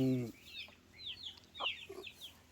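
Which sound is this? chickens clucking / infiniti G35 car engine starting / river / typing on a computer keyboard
chickens clucking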